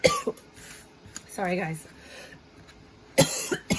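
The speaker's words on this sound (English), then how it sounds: "I still have this cough that won't go away" A person recovering from COVID gives short harsh coughs at the start and end, with a few spoken words in between.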